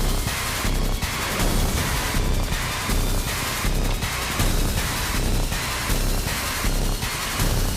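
Gunfire fills an armed attack in an action movie. Dense, loud bursts of shots repeat in a steady rapid rhythm over a constant wall of noise, with no pause throughout.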